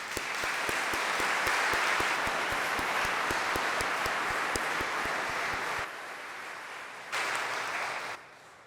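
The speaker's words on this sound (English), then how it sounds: "Can we give them a round of applause?" An audience claps steadily and fairly loudly for about six seconds at a memorial service for Bob Moses, eases off, then a short second burst of applause follows before it fades.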